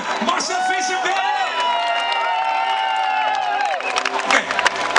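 Live-concert crowd applauding and cheering for a band at a levenslied event in Tilburg, steady clapping and whoops mixed with band sound and a voice talking over it.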